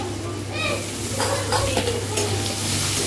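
Cumin, turmeric and whole tomatoes sizzle in a pan while being stirred, a steady close frying hiss with spatula scrapes and a low background hum.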